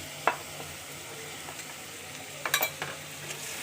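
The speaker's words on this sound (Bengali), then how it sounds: "এগুলো ভালোভাবে আমি কষিয়ে নেব। আমগুলো নরম হয়ে না আসা পর্যন্ত এগুলো আমি কষাবো, নাড়াচাড়া করব।" Puti fish with mango and spices cooks in a pan, a steady low sizzle with a few scattered clinks and scrapes of a spatula stirring, a brief cluster near the end, close and with no voices.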